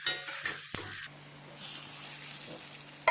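Mustard seeds, chopped shallots and curry leaves sizzle in hot oil for a Kerala chicken chaps tempering, a close, steady frying hiss with small crackles and a brief pop near the end.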